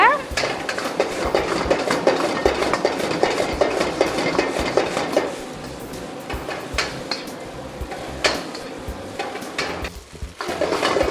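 Restaurant-style vegetable fried rice with capsicum tossed and stirred on a high flame, with loud, rapid metallic clanks and scrapes against the pan over a sizzling backdrop, easing slightly partway through.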